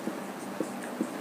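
Chalk or marker writing on a board during a math lesson, a few soft, brief taps and strokes at an even pace, quiet and close, with no talking.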